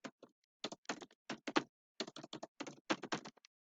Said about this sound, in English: Having trouble with my typing today.